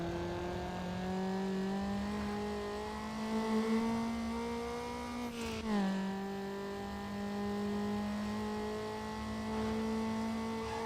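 A car in the Need for Speed Underground racing game holds a power slide, a sustained engine whine with steady revs that dip and recover midway, mixed with faint tire noise, fairly quiet throughout.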